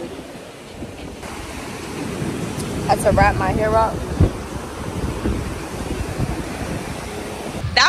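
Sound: waves breaking at a beach in Tulum

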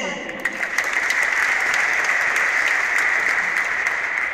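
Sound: applause for a football player at a stadium festival

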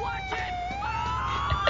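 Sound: ambulance siren in a video game

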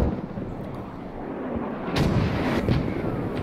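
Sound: mortar explosions in Squad video game

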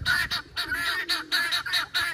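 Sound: guinea fowl calling

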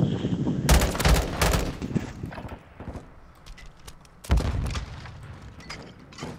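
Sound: machine gun fire in a video game

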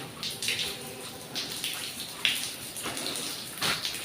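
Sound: water dripping continuously

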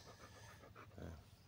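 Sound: dog panting

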